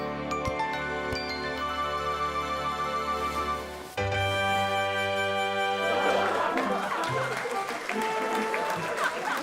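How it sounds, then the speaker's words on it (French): A crowd cheers and applauds Caillou's tricks with his toy Teddy in a cartoon, a swell of clapping and excited noise rising over bright background music during the second half. "La foule s'est déchaînée pour les tours de Caillou."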